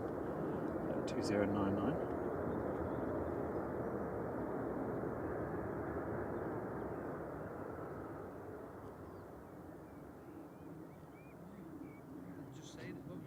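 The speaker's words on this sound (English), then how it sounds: "This is Ryanair from Corfu, 737-800 EIBA EVA" A Ryanair Boeing 737-800 from Corfu arrives at Manchester Airport, its engine noise a soft, steady broadband rumble from a distance that slowly fades, with people talking and a brief word spoken over it.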